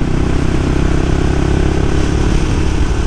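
A Suzuki motorcycle engine roars steadily at close range on a winding mountain road, a loud continuous drone as the bike accelerates, with no voices.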